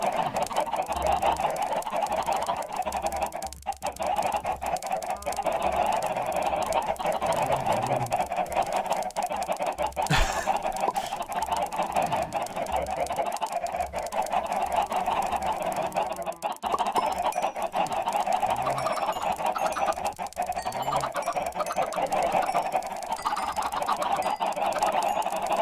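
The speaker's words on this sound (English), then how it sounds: "Look at all these chickens!" A large crowd of chickens in Minecraft clucks and squawks continuously for the whole stretch, dense overlapping honking calls with no speech over them.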